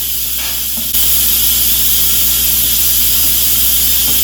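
Steam hissing loudly from a pressure cooker release while making stuffed pepper soup in a kitchen, a harsh, constant broadband rush that bursts on after a brief quieter moment and continues unbroken, close and dominant.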